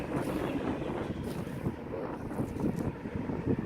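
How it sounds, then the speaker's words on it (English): Spring wind blowing across an open zone 6a garden where large silver maples were cut down, a loud continuous rumbling buffet against the microphone with gusty swells, no speech. "I don't know how bad that wind is"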